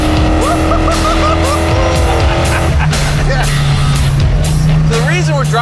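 Muscle car with a 440 wedge V8 bored out to 505 cubic inches (8.3 liters) roaring loud and close as it accelerates hard, engine pitch rising and dropping through gear changes with tire squeal, voices shouting over it.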